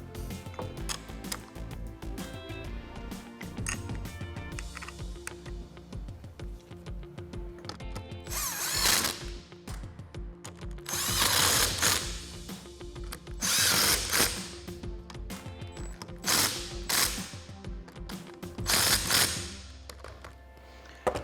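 Power tool tightening the nuts on a 2.5-inch front leveling kit spacer for a RAM 1500 strut, with repeated loud bursts of whirring and rattling between quieter stretches of clinking and handling, no talk.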